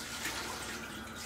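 Tap water running in a kitchen sink while an octopus is rinsed under it, a steady close hiss of flowing water with faint splashing, brief and unbroken, no voices.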